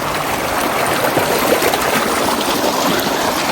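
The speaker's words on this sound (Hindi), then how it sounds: "ये चलने वाला पानी ये ग्लेशियर से भी आता है।" Glacier meltwater stream running through a high mountain village in the Hindu Kush of Chitral, a steady close rush of flowing water heard alone.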